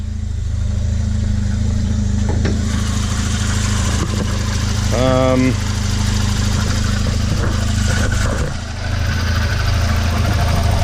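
A Volvo engine with heavy blow-by runs close and loud, holding a steady low, rumbling drone throughout with a brief tonal whine partway through.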